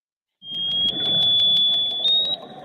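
Modern active sonar sends out multi-tone pings, a steady high electronic tone overlaid with a rapid, regular series of short pulses, loud and close, with a faint low rumble beneath.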